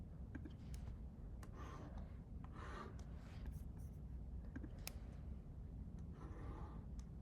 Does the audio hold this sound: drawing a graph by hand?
yes